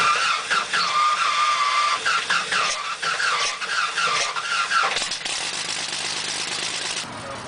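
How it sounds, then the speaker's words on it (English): Lycoming O-435 piston aircraft engine starting on a test stand in a test cell, cranking then catching into a loud, steady roar that drops in pitch and settles toward idle near the end. "Immediately after starting the engine,"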